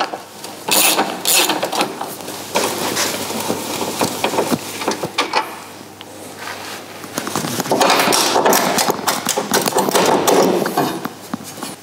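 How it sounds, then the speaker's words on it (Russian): Ratchet wrench working loose nuts and bolts on a Daewoo Matiz 0.8 during clutch replacement, giving bursts of rapid mechanical clicking with metallic clatter, fairly close and loud throughout, with no talking. "срываем гайку на 12 и отворачиваем два болта на 12"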